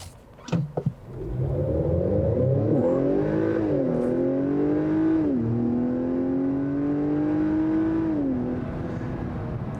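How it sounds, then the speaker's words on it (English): A 2-liter turbocharged Acura RDX in sport mode accelerates hard from inside the cabin, the engine droning and rising in pitch through the gears with brief dips at each shift, loud and continuous after a few opening clicks. "let's see how this thing accelerates"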